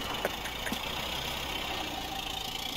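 Idling car engine in Mafia Definitive Edition, a steady low hum that runs evenly beneath a faint wash of ambient noise, with no voices heard.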